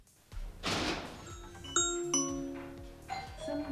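An Amazon Echo Show 5 plays a Ring doorbell chime after the front door button is pressed: a bright, ringing two-tone ding-dong with sustained harmonic tails, heard nearby and clearly over a brief rustle and room noise.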